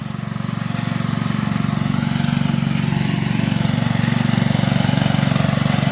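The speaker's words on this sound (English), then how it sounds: "Honda engine, Tecumseh transmission." Honda engine running steadily on an H-Max all-wheel-drive utility loader with a Tecumseh transmission, a loud, close, even mechanical drone with a fast regular pulse that holds for the whole stretch.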